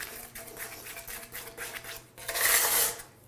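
A 4-inch drywall knife works joint compound on a hawk, giving a close run of metallic scrapes and rubs in uneven strokes, with a louder, harsher scraping burst near the end.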